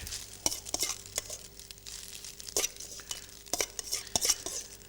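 Vegetables go into a hot pan over high heat for a warm noodle salad and get tossed, giving irregular scraping and clattering utensil strokes over a soft background sizzle, with no talking.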